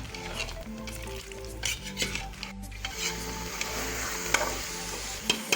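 Chicken and turnip being sautéed in a pot for a desi sheljum gosht curry, a moderate sizzle under repeated spoon scrapes and clinks against the pan, close by with no talking.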